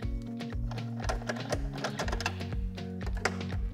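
Removing Phillips screws from the side plates of a Minn Kota Terrova trolling motor, giving close, busy mechanical whirring and clicking with a stuttering, repetitive rhythm and no talking.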